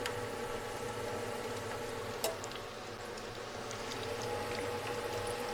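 Wonton frying in oil makes a steady, even sizzle and bubbling hiss that holds throughout, with one brief sharp clink partway through and no voices.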